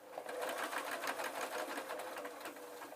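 A sewing machine stitches a soft tweedle muffler toy, its needle chattering in a fast, steady whir close by, running continuously without talk.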